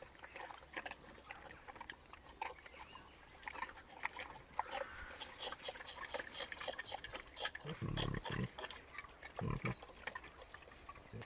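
Pastured pigs in a forest grunt and snuffle in a steady run of soft, close noises, with rustling among the foliage and heavier, louder grunts toward the end.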